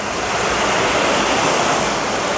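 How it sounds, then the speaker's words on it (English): Waterfall at Sam's Town Mystic Falls indoor atrium in Las Vegas, a loud, continuous broadband rush of falling water with no pauses or voices. "can you see the waterfalls behind me?"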